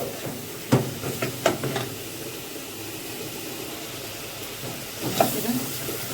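Onion sautéing in a pan gives a steady sizzling hiss, punctuated by a few louder clinks and stirring knocks, close and constant.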